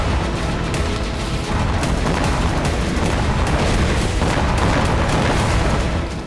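Explosions from charges of 15 to 20 kilograms rip through oil facilities, a loud, unbroken barrage of booms and cracking blasts that pile densely on top of one another without a break.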